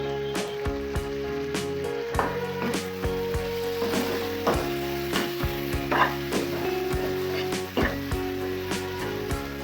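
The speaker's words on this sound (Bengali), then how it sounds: "বেগুনগুলো একটু মশলার সাথে কষিয়ে নিচ্ছি।" Eggplant sizzles steadily as it fries with spices in a pan for a loitta fish curry, with frequent stirring clatters over the constant crackle.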